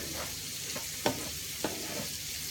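Mushroom and chorizo risotto stirred in a pan over a steady soft sizzle, with a few scrapes and two louder knocks of the spoon against the pan.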